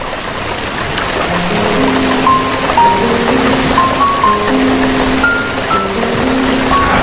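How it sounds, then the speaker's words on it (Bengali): Light drizzling rain falls in a steady, even patter, moderately loud and continuous, with faint sustained tones running beneath it. "ঝিরি ঝিরি করে বৃষ্টি নামলো।"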